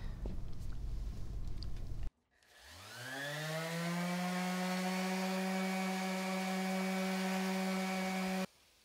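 A power tool spins a homemade Scotch-Brite disc, hot-glued onto an old sanding disc, while building a bicycle frame. It winds up from silence into a loud, steady whine that holds for about six seconds and then cuts off.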